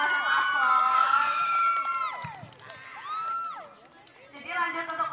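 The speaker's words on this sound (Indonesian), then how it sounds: "Boleh kasih tepuk tangannya dong teman-teman paslon" Students at a school student council debate cheering and shouting, a loud crowd of excited high voices and whoops with little distinct clapping, rising again at the end.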